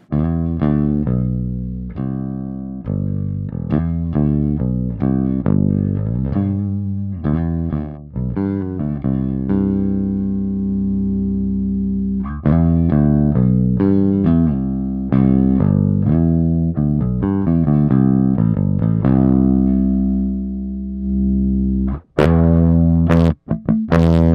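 An electric guitar through a Master Effects Super Forty overdrive pedal plays sustained notes and chords, the tone growing grittier and more saturated, ending in a few sharp noisy bursts.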